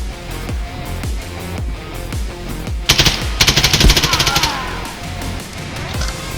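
M4A1-CQBR rifle fire in the shooter game Contractors Exfil Zone, two close rapid bursts of automatic shots over steady game footsteps and ambience, no talking.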